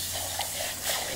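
Boiled water pours out of a cooking pot and splashes into a sink in a short, continuous gush.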